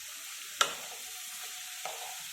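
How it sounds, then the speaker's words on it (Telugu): Cabbage stirred and frying in a pan over a medium flame, a steady sizzle with two sharp utensil scrapes against the pan, close and without voices. "స్టవ్ మీడియం ఫ్లేమ్లో పెట్టి తిప్పుతూ ఉండాలి."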